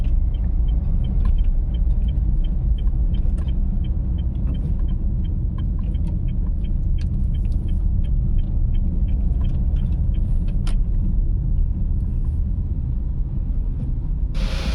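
Manual car interior as the driver engages first gear, eases the clutch and adds a little throttle, then shifts to second: a steady low engine rumble throughout with faint clicks.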